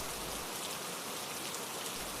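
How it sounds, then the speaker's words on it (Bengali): Steady rain pours down just beyond a veranda, a dense, even hiss of drops striking surfaces that fills the whole short stretch without a break. "আজ বৃষ্টি হচ্ছে"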